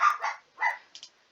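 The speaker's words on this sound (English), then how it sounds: "You might hear my dog in the background" A pet dog barks in the background behind a game-commentary recording, with three or four close sharp barks in quick succession, fairly loud against otherwise quiet surroundings.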